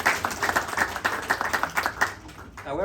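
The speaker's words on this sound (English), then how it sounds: "Give yourself a nice round of applause." Applause at a class 6 graduation ceremony, distinct close hand claps in an uneven rhythm from a small group, lasting nearly three seconds before a voice comes in at the end.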